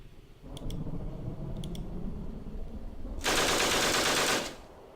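Rapid machine-gun fire in the Call of Cthulhu: The Wasted Land video game, a loud harsh burst lasting over a second after a stretch of low rumbling battle noise with faint clicks.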